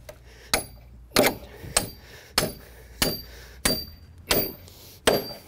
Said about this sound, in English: It's a ratchet wrench that's clear through.